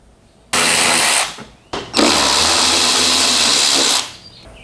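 Power driver removing two Phillips head screws from the inner fender well of a Nissan Xterra: a short, loud whirring burst, a brief pause, then a longer close whir before the motor winds down.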